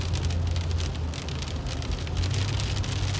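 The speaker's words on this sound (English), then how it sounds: "It's raining in Cali right now." Steady rain falls outdoors in California, a dense, continuous hiss of drops on surfaces with a low rumble underneath, loud and close without any talk.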